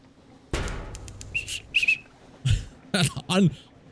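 In the Sunless Sea video game, a ship's whistle sounds in short, high tonal blasts, mixed with other brief game effects and a few bursts that sound like a voice.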